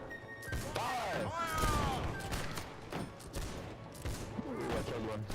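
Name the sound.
musket volley fired in Holdfast: Nations At War video game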